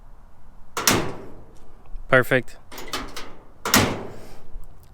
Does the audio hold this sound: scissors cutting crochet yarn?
no